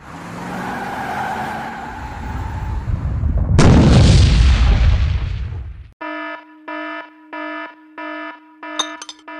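Tank main cannon blast in an animated fight scene, a loud heavy boom with a roaring rush that fades, followed by a pulsing electronic alarm-like tone in regular beeps.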